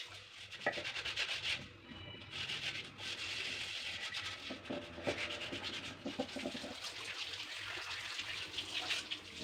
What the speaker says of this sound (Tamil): இந்த கஞ்சியை கீழே ஊற்றிட்டு தேங்காய் நார் வச்சு நல்லா தேய்ச்சி கழுவிடுறேன்